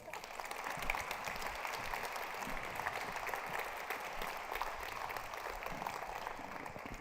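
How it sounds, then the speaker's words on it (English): A conference audience at a summer gathering gives a long, sustained round of applause, a dense, even roar of many hands clapping heard from a distance and fairly faint, holding steady from start to finish. "I think this deserves a really long, extended round of applause."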